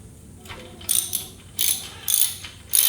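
A ratchet wrench with a 12 mm deep socket loosens bolts on a Royal Enfield 650 motorcycle, giving several bursts of close, loud clicking with short pauses between them.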